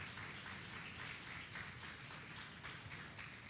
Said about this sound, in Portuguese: Igreja, vamos aplaudir os nossos visitantes.